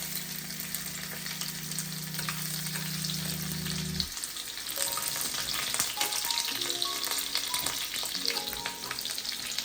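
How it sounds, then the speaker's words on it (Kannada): Crushed garlic fries in hot oil for a dry fish gravy, giving a steady, close crackling sizzle that runs the whole time, with a low hum early on and a few stirring clinks toward the end. "ಈಗ ನಾನು ಜಜ್ಜಿರುವಂಥ ಬೆಳ್ಳುಳ್ಳಿಯನ್ನ ಹಾಕ್ತಾ ಇದ್ದೀನಿ."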